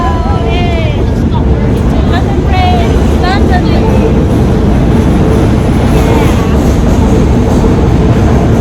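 A train passes close beside a London river cruise boat, its heavy, steady rumble filling the whole stretch loudly while a crowd of passengers chatters and calls out on board.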